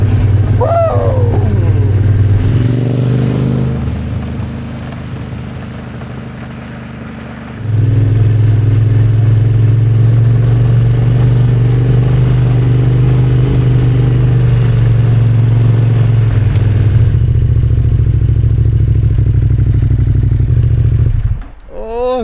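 Motorcycle engine running loud and close on a ride toward snow, a steady low drone that dips and softens mid-ride, then swells back up and holds before fading out at the end.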